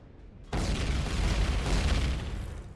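A deep, rumbling explosion in the space survival game Empyrion Galactic Survival bursts in suddenly and keeps roaring as a broad, sustained blast, with no talking.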